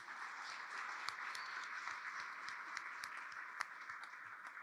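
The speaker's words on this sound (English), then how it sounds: "give yourself a round of applause" Steady, dense applause from an audience at a welcome speech, filling the whole stretch with crowded clapping and a few sharper individual claps standing out.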